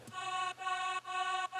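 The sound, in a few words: another vocal sample in FL Studio track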